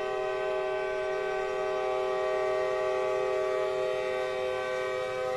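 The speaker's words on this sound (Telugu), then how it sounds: "అది ట్రైన్ స్టేషను" A train sounds a sustained, loud horn at a railway station in Baarle-Nassau, one steady multi-tone blast held for over five seconds over rail rumble, with no talk.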